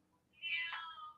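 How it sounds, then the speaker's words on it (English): A single cat meow, faint and somewhat distant, rises and falls over about a second against a quiet, low hum. "we do hear a cat"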